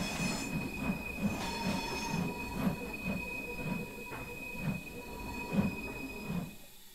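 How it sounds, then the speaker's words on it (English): An LMS Stanier 8F steam locomotive slips its wheels, giving rhythmic chuffing bursts and a steady metallic whine for seven fairly quiet seconds, with no talking. "Whoops, wheel spin again."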